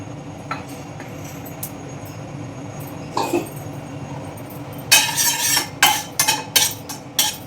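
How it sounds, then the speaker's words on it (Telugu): Sharp crackling pops burst in quick irregular clusters after a quieter start, like mustard seeds spluttering in a hot pan close up. "ఆవాలు చిట్టపట్ట అనాలన్నమాట"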